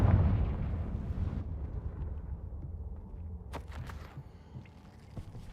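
A Confringo blasting spell goes off in a Harry Potter video game, a loud booming burst at the start that rumbles away over several seconds, followed by scattered crackles and small clicks.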